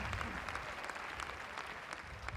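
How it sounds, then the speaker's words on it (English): An audience claps continuously at a 2023 Stroudsburg High School graduation ceremony. The dense, even applause from a large crowd lasts the whole moment and is heard at a moderate distance. "that deserves another round of applause"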